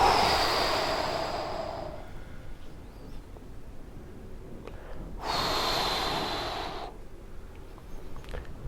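Two long, breathy exhalations during a hypnosis trance session, each lasting about two seconds with a quiet pause between them, close to the microphone and with no talk.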